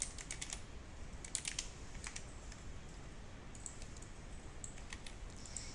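Faint, quick clicking of computer keyboard keys pressed in short irregular bursts, with a soft background hiss and no speech.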